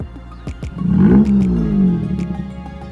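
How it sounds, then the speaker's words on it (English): A Dodge Challenger R/T blips its engine once, a short deep rev that rises and falls over about a second, close up, amid a few sharp clicks and knocks, with no speech. "Rev it a little bit."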